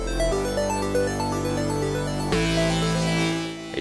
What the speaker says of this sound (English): a square wave could be used to make 8-bit chiptune sounds.